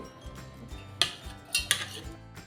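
A few sharp clinks and knocks of a mixer jar being set down and handled, close and fairly quiet, with no speech.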